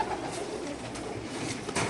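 Racer pigeons coo softly at a pigeon farm, low throaty murmuring calls close by over a short stretch, with no one talking.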